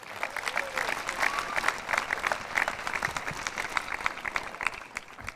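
A crowd at the Tennis Hall of Fame induction ceremony claps for Mary Pierce, a lively, uneven round of applause with some voices audible in the mix.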